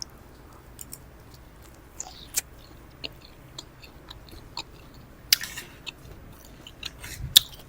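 A home-made omelette being bitten and chewed up close, with sparse crisp clicks and soft mouth sounds scattered irregularly through quiet.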